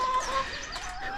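Young chicks peep and cluck softly in a steady stream of thin, high calls, heard close with nobody talking.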